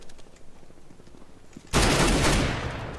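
Gunfire erupts in the Counter-Strike video game, a sudden loud burst of rapid shots after a quieter stretch of faint in-game clicks and movement, continuing dense and harsh until the end.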